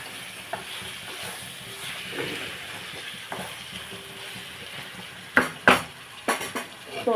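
A spoon stirs and scrapes inside a pot of chicken curry over a quiet sizzle, ending with several sharp metallic clanks against the rim.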